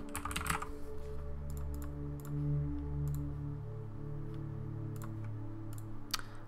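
Someone types on a computer keyboard, with quiet, crisp key clicks arriving in scattered short bursts over a low, steady background hum.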